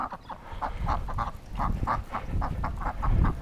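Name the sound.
duck quacking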